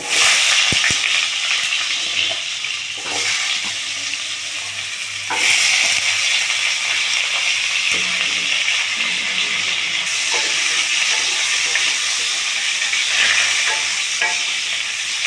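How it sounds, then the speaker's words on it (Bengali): Potato pieces fry in a pan for a prawn curry, giving a loud, steady sizzle with bursts of stirring and scraping throughout. "আলুটা একটু ভাজা হোক"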